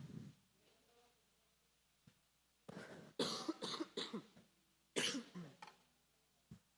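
Several harsh coughs in quick bursts, close to the mic, with a couple of short throat-clearing sounds between them and a final small cough.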